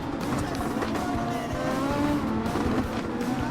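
Super Formula race cars in Gran Turismo Sport whine at high revs, a dense continuous engine drone with brief tire squeals, steady and close, with faint talk underneath.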